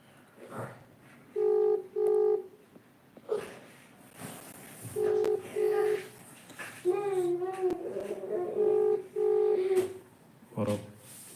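A phone keypad sends short paired DTMF tones in quick bursts while calling contest winners from a Wayanad resort, several tone groups spaced across the stretch with a person speaking between and over them.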